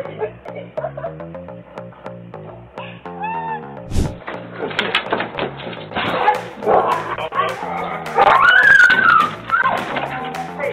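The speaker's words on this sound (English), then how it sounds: "It may have been a long time since the dog went out to play." A dog barks, yips and whimpers excitedly while playing outdoors in slippery snow, with rapid repeated barks and whines close by over noisy handling and a person's voice briefly speaking.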